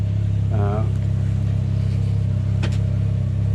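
A Can-Am Ryker Rally three-wheeled motorcycle engine drones steadily while it is ridden, a constant low rumble with a brief tonal rise near the start and a short burst of higher noise later.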